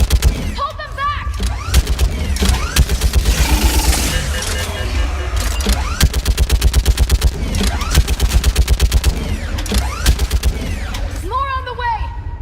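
Sci-fi battle gunfire in the video game Mass Effect, with sustained rapid automatic bursts and repeated shots over a full battle soundscape, mixed with shouted commands and chatter.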